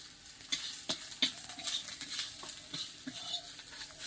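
Spiced food with turmeric and chili powder stirred in a frying pan, a soft continuous sizzle under a rhythm of scraping spoon strokes about every half second, close and fairly quiet, no talking.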